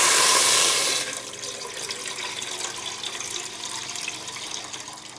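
Water pours steadily into a heated pan for noodles, a loud rushing splash for about a second, then a softer trickle and fizzing that continues.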